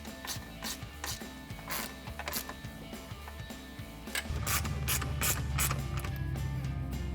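A hand ratchet tightens the mounting bolts of a powered, heated towing mirror on a 2014-2017 Chevrolet Silverado, clicking in quick regular bursts close by, growing louder and busier toward the end.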